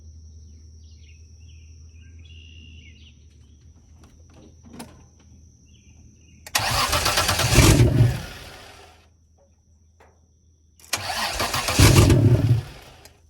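A Toyota T100 pickup truck with a fault cranks and starts, runs for about a second, then dies. The same start-and-stall sequence happens twice, loud and close, with quiet idle-free gaps in between.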